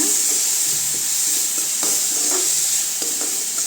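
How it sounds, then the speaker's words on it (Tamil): Tomatoes sautéing in a pan with salt and chilli powder, a steady sizzle and hiss under repeated soft scraping strokes of a spoon stirring, close and continuous with no talk. "தக்காளி நல்லா வதக்கிடலாங்க."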